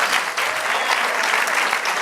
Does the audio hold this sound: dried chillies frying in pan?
no